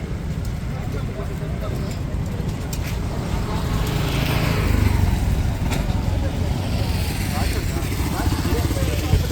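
Hero Xpulse motorcycles at a rally gathering pull away together, their engines making a steady broadband rumble that swells toward the middle of the stretch, with people talking throughout.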